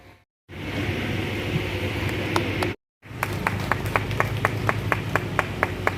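An audience claps to welcome a guest at a gathering, with sustained dense applause that cuts out, then resumes as sharper rhythmic clapping over a steady hum of background noise.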